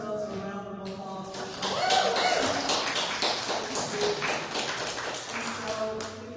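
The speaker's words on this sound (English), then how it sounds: "So let's give ourselves a round of applause." Audience applause at a book reading and signing, a crowd of hands clapping steadily for several seconds, swelling and then holding at a full, busy level, with some voices mixed in.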